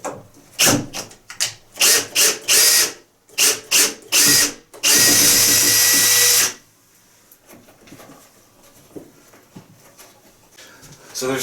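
Power drill driving a screw while mounting a bathroom light fixture: a series of short, loud whirring bursts, then one sustained burst of about two seconds, followed by quiet handling noise.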